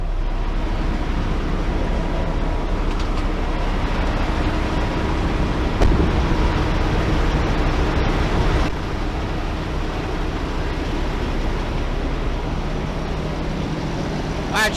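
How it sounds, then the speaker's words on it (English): Outdoors, a truck engine runs with a low, steady rumble and a broadband hum that drops slightly partway through, heard from nearby. "we're going to step outside while the truck is running"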